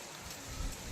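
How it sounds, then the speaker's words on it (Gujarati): Heavy rain pours down in Porbandar, a dense, steady hiss of falling water with a few low thumps, heard alone. "પોરબંદરમાં વરસાદ ચાલુ થઈ ગયો, ધોમેધાર."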